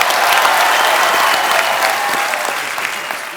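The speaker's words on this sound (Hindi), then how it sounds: "धर्मेश के लिए जोरदार तालियां यार।" A studio audience on a TV comedy show applauds a dancer, with steady, dense clapping that stays loud and continuous throughout.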